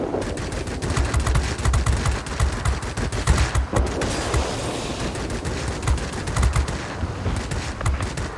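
Warplane guns fire in World of Warplanes, a dense, continuous rattle of rapid shots running loud and close through the whole stretch with no talking.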